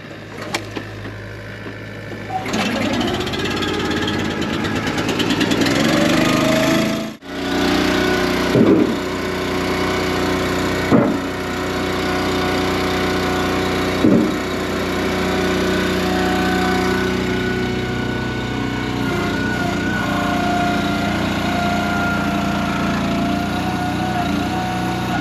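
A small pull-started engine, likely a chainsaw, catches after a tug and then runs at a steady buzzing drone, loud and near, with a few brief revs and knocks over the running sound.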